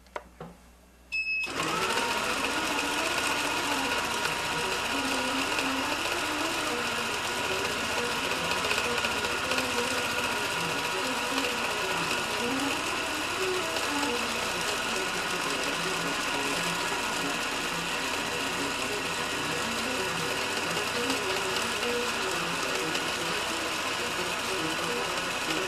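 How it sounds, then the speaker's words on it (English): A sewing machine stitching continuously at a constant speed with its dwell feature switched off, giving a close, loud and steady whirring hum that starts abruptly after a brief quiet moment and runs without hesitation. "So I'll just set it stitching, same speed and everything, but with Dwell off."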